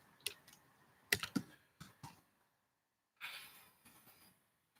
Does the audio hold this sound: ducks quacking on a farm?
no